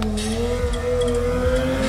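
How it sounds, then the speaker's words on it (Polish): A sport bike ridden in a stunt show holds a loud, steady engine drone with a rising pitch while braking hard onto its front wheel for a stoppie, close and dominant. "Stopi, czyli wyhamowanie na przednim kole wbrew pozorom bardzo trudny element."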